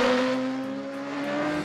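A car engine revs during a chase sequence in Mission: Impossible - Rogue Nation, a sustained close droning whine holding a steady pitch, with no voices.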